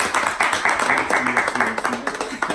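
A small group of people clapping in rhythmic bursts, close and fairly loud, with voices talking over the applause.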